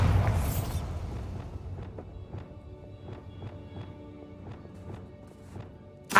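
Hogwarts Legacy's Bombarda spell erupts in a loud burst at the start, then a string of evenly spaced sharp impacts or steps follows in rhythm before a sudden thump at the very end.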